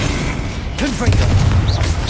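In Hogwarts Legacy, a Confringo spell detonates as a loud, close boom with a rolling low-end burst, partly overlapped by brief voice sounds.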